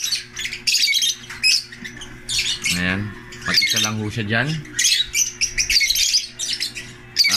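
A sick caged bird squawks and chirps in loud, harsh bursts across the whole stretch, with someone talking nearby in between and over the calls.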